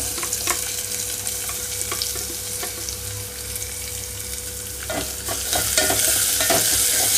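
Chopped onions and green chillies frying in a pan over medium flame, a continuous close sizzle broken by frequent spatula scrapes and clicks.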